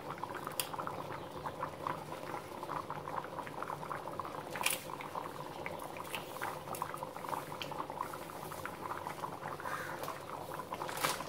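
Kurma curry bubbling steadily in a pot, a side dish for puri and chapati: continuous close simmering with dense small pops and blips, no voices.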